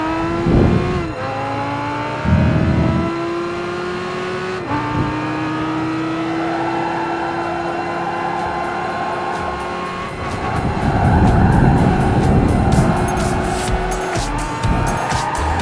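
A race car in the Gran Turismo 5 game on Grand Valley Speedway, seen from the dashboard view, with a loud, sustained engine drone rising and falling through gear shifts and revs, occasional tire noise, no talk.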